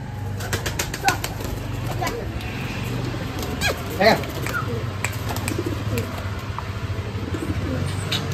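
Low, soft pigeon cooing rumbles along under close voices, with a few sharp clicks and a brief burst of wing flapping.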